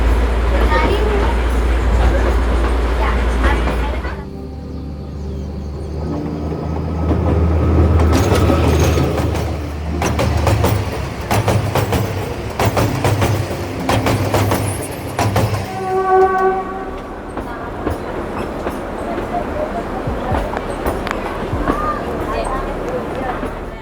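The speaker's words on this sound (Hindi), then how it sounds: "हमारी ट्रेन अपनी धीमी रफ्तार से गुजरात के इन हरे भरे मैदानों से होते हुए यात्रियों का मनोरंजन कराते हुए आगे की ओर चल पड़ी है।" A century-old narrow-gauge toy train runs between Bilimora and Waghai through green fields in Gujarat, its steady rumble and rail clatter carrying on under continuous talk, with a brief horn-like tone partway through.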